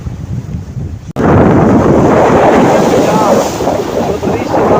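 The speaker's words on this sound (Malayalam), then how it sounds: "നല്ല തിരകളൊക്കെയാണ് ഇങ്ങോട്ട് കടൽ അടിച്ച് കയറി വരും" Sea waves surging onto Chembarika beach in Kasaragod, Kerala, a steady loud roar of surf mixed with heavy wind buffeting after a brief quieter moment at the start.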